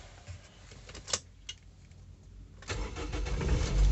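A 2011 Toyota Vios Limo's engine cranks with a few short clicks, then catches and settles into a rising, close idle rumble.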